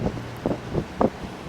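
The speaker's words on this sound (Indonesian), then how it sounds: "Sini angin kencang." Strong wind gusts buffet the microphone outdoors in Johor city, Malaysia, with an uneven rush and several louder bursts throughout, no voices.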